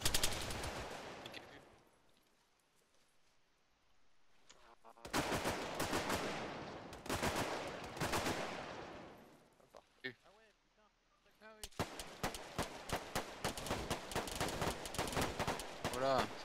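Close-range gunfire in the military shooter Arma 3: loud bursts of rapid automatic shots come in two long stretches, separated by a quieter gap with faint rattles.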